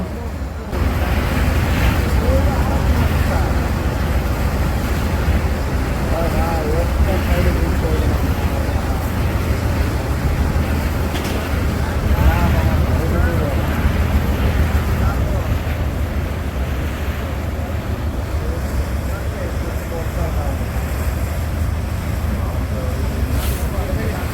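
The M.Khan-7 passenger launch cruising on a river between Barishal and Dhaka, with a constant low engine drone, rushing water and wind noise on the microphone that stay steady and loud throughout.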